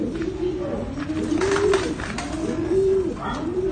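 Racing pigeons coo repeatedly in a soft, rhythmic stream of low throaty calls, close by, with light ambient noise and a few faint higher chirps mixed in.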